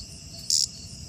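A cicada held close gives one brief, harsh buzzing burst over a faint background hum.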